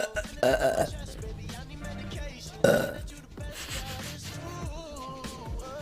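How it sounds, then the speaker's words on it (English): A woman burps twice, loud and close, with quiet chatter and background noise between the burps. "It's a burp, yeah."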